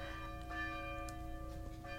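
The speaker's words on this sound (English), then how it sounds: "that's the church bells, which are really pretty" Church bells ring out steadily, their sustained tones layered and humming, distant but clear over a quiet background.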